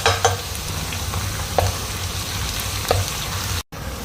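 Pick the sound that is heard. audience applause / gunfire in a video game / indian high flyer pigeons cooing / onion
onion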